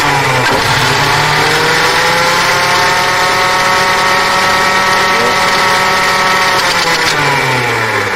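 A Suzuki engine with a spark fault, no spark showing at the plugs, runs loud and close with a steady mechanical drone and a slight rise in pitch, without pause the whole time.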